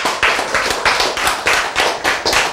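An audience at a Korean sermon claps in a quick, steady rhythm, loud and close, about a dozen evenly spaced claps with no talking.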